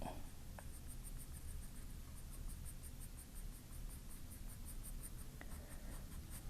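A Staedtler 2B graphite pencil shades on paper with soft, quiet, continuous scratchy strokes up close in a quiet room, with no talk.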